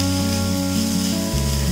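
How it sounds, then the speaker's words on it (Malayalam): Chopped onions dropped into hot oil for vegetable cutlets, a steady close sizzle of frying under a continuous background hum, with no talking. "അപ്പം നമ്മുടെ ഓയിൽ നന്നായിട്ട് ചൂടായിട്ടുണ്ട്, ഇതിലേക്ക് നമുക്ക് സവാള ചേർത്ത് കൊടുക്കാം."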